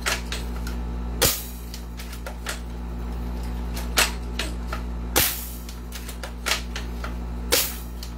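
Airsoft guns, including an L96 sniper rifle, a Stoner DMR and a revolver, fire a few sharp, loud snapping shots spaced several seconds apart, with quieter clicks of handling between them.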